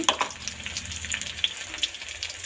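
Chopped onion fries in a pan with a soft, steady sizzle while a utensil stirs it, giving a few light clinks and scrapes at moderate volume.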